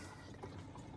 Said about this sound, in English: all of the water coming from the overflow through this gate valve